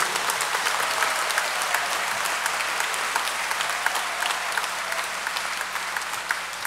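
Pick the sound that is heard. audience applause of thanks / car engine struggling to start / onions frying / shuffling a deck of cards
audience applause of thanks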